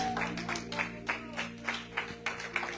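Church congregation giving applause to the Lord during a service: a series of sharp, rhythmic clap bursts roughly every half second over a low steady hum, fairly quiet and somewhat distant.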